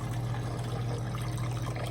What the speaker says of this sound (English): So I'm gonna pour some Island Punch.